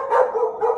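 A dog barks indoors close by, two or three quick sharp barks in a short burst.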